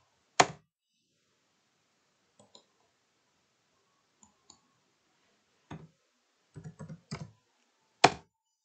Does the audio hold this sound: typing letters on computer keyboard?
yes